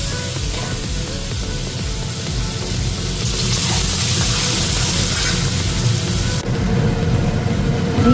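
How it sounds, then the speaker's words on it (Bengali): Eggs fry in hot oil in a wok, giving a steady, close hiss and sizzle that runs unbroken and fairly loud throughout, with no talking. "ডিমগুলো তো ভাজা হয়ে গেল।"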